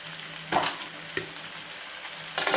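Chicken liver frying with chopped garlic in a pan, a steady low sizzle with a few sharp spatula scrapes and a bright burst of hissing at the end, close up without speech.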